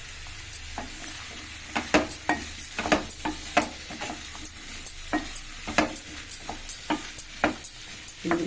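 Soaked chana dal stirred and frying in a pan with onion, a steady soft sizzle broken by frequent sharp scraping clicks of a spoon against the pan, close and alone.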